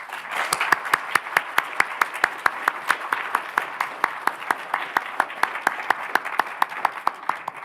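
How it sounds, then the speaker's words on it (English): Audience at a cybersecurity summit plenary applauding a conference organizer, dense clapping from a room of people with a rhythmic, evenly spaced beat, steady and fairly loud for several seconds. "I want us to give a particular thanks and round of applause to Diana"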